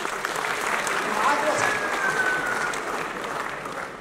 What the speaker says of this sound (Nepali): तपाईहरु सबैले ताली बजाएर होला पनि अभिनन्दन गर्नु